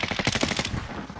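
Rapid automatic gunfire in the Call of Duty Warzone video game, a close, loud burst of quick repeated shots lasting about a second, with no talk.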